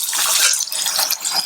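Water pours steadily into a pressure cooker holding rice and dal, a continuous close splashing gush with no pause.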